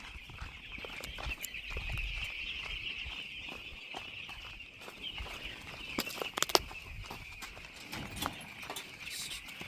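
A poultry farm housing thousands of chicks gives a dense, steady chorus of high peeping, broken by scattered knocks and clatter nearby.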